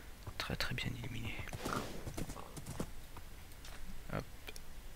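Hooves of a horse clop in quick irregular bursts in Minecraft, close and crisp, over a faint background hum with occasional soft voice.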